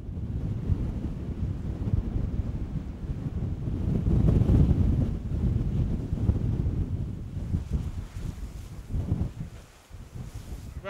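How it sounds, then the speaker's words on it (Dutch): Strong autumn storm wind roars across open northern Dutch land, buffeting the microphone with a steady low rumble that swells and eases in gusts, with no voices over it. "de eerste herfststorm raasde vandaag over onze provincie"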